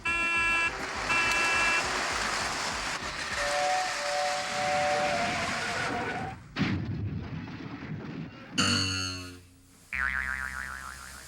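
Toy trains rush with mechanical clatter, shrill steam whistle tones and hissing steam, then loud bangs and abrupt shifts in sound, busy and chaotic.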